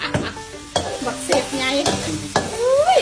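Pork stir-fried for Thai pad kaprao in a pan, with steady sizzling under repeated sharp scrapes and clacks of a spatula against the metal, close and fairly loud throughout.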